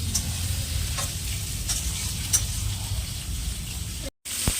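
Amudi fish frying in a pan, a steady close hiss of hot oil with faint occasional clicks and a brief cut near the end.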